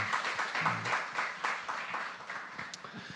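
Applause from a gathered church congregation, a moderate wash of clapping heard from a little distance, steady for a few seconds.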